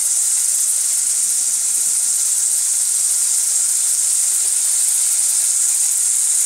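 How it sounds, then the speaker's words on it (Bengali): Chicken chow mein ingredients stir-fry in a hot pan with a steady, loud, bright hiss and sizzle that holds unchanged throughout. No voices over it. "একসাথেই কষিয়ে নিচ্ছি"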